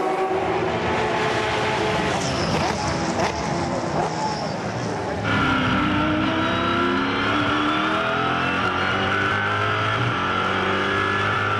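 GT race cars racing at Bathurst in the 2010 Australian GT Championship, engines roaring continuously and close, with a commentator talking over them throughout.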